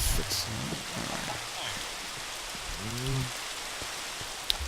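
Steady rain falling in the Minecraft video game, a soft, even hiss of drops that continues throughout, with a brief low tonal murmur partway through.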